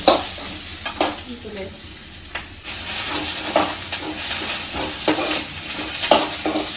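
A spoon stirs masala with onion, garlic and coriander leaves in a hot pan for Mangalore-style chicken pulimunchi, giving rhythmic scraping strokes over a continuous close sizzle, no voices.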